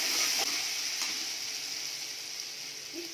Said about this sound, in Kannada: ಶುಂಠಿ ಬೆಳ್ಳುಳ್ಳಿ ಪೇಸ್ಟು ಇಷ್ಟು ಹಾಕೊಂಡು ಫ್ರೈ ಮಾಡ್ಕೊಡ್ಬೇಕು.